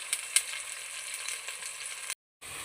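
Sliced onions and slit green chillies fry in oil for a mutton curry, giving a steady, close sizzle with a couple of small crackles that cuts off briefly near the end before resuming.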